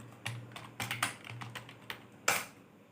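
Quick bursts of keystrokes on a computer keyboard, uneven clusters of soft clicks with a few louder taps and a final firm press, close and quiet with no talking.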